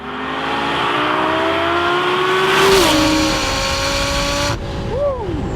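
A tuned 900 hp twin-turbo Lamborghini LP 560 accelerates hard, its engine loud and close as it climbs in pitch, drops on a gear change and rises again.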